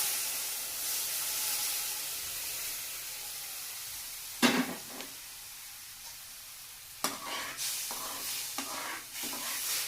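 Hot milk hitting roasted semolina for sweet sheera sets off a steady broadband sizzle and hiss, with sharper sputtering bursts partway through and again near the end, close and moderately loud, no voices.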